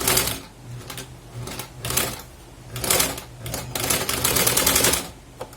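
A sewing machine stitches patchwork fabric for a gas cylinder cover in close, loud bursts of rapid mechanical clatter, stopping and restarting several times with short pauses in between.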